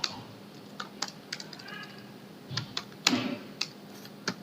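Python print statements being typed on a computer keyboard, a quiet irregular run of distinct key clicks with brief pauses between them and no talking.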